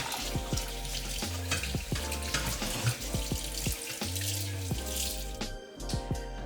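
Cold tap water runs into a sink to rinse chenna curdled with vinegar, a continuous splashing stream with drips and clinks of handling, close and fairly loud with no speech.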